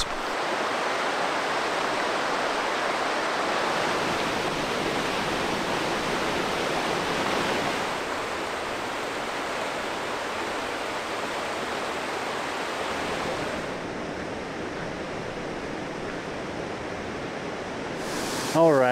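A waterfall on the Isle of Skye, Scotland, pours as a steady, full broadband rush, loud and close throughout, with the roar easing slightly partway through and a brief clatter at the very end.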